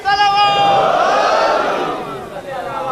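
A large crowd at a Muharram majlis chanting a slogan in unison, a loud, close roar of many voices that swells and then fades.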